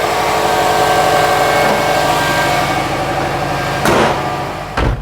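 A Subaru WRX engine runs steadily at a close idle, a continuous low rumble with brief louder bursts near the end and no talking.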